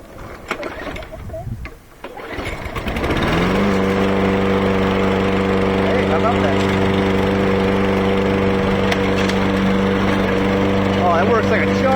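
A trash-picked 2010 Toro Recycler Personal Pace 22-inch mower, just fitted with a belt, rattles briefly, then its engine catches at about three seconds and settles into a loud, steady, close droning run.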